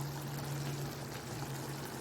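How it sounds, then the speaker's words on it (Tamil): Ground coconut paste poured into a simmering nethili karuvadu kulambu, a dried anchovy fish curry, making a steady, continuous wet pouring wash over a low kitchen hum. "இப்போ வந்து இதில் நம்ம தேங்காய் அரைச்சதை சேர்த்துக்கலாம்"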